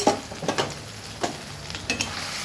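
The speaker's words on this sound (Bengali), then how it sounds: "এবার আমি ডিমের সঙ্গে মশলার সঙ্গে ভালো করে কষাবো।" Eggs stir-fried with spice masala in a pan, a spatula scraping and turning them in a series of irregular strokes over a faint, steady sizzle, fairly close and unaccompanied by voices.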